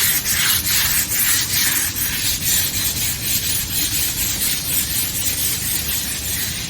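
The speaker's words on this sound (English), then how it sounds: "Grind it flat and sweep it clean with that rag." Filler on a billiard table slate being ground flat with a rough, continuous abrasive rubbing and hissing grind, steady and loud throughout with slight rhythmic pulses, close by and without talking.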